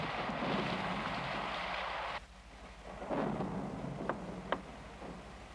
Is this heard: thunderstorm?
yes